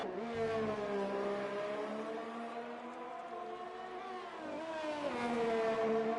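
A Ferrari Formula 1 car in a racing game at Zandvoort roars steadily near and loud, its engine note dipping as it shifts and then climbing again with rising revs, with no talk.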